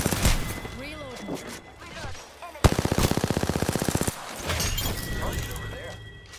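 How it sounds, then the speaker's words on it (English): Enemy automatic gunfire in the Apex Legends battle royale shooter rattles out as a fast, evenly spaced burst lasting over a second, loud and close, amid other game effects and voices. "Enemies are shooting at me."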